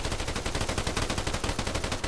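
Rapid automatic machine gun fire in a military shooter video game, a sustained burst of sharp evenly spaced shots with no pauses, loud and close.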